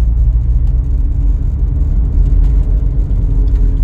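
A car cruises in third gear with the fuel cutoff engaged, a loud, steady low engine rumble and whir heard from inside the cabin, with no talk.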